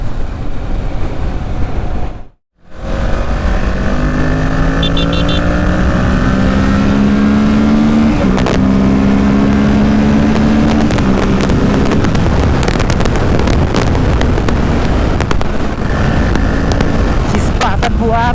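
A Kawasaki Ninja sport motorcycle engine heard while riding, its note climbing through revs and gear changes under heavy wind rush, with a brief cut early on and a rider talking at times.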